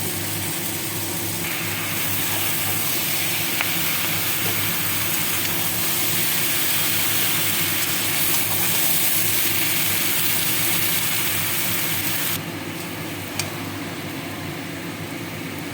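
Vegetables for a stew sizzle in a cooking pan with a steady, continuous hiss throughout, fairly loud and close, dropping slightly near the end, with no talking.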